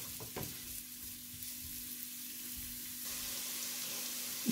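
Onions fry in a pan until golden brown for a chicken skillet dish, giving a steady, even sizzle that stays close and constant with a slight swell in the later seconds.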